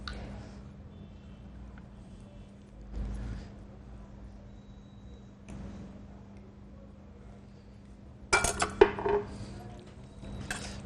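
Food tossed in Papa D's Portuguese sauce inside a dish: a short burst of close, clattering scrapes and knocks near the end, after quiet rustling and a few soft bumps.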